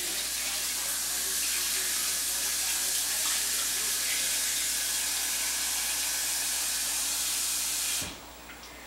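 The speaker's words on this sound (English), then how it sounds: "add enough water just so it covers the potatoes" Tap water pours steadily into a cooking pot holding halved potatoes, a loud continuous rushing hiss that stops abruptly near the end, leaving a quiet room tone.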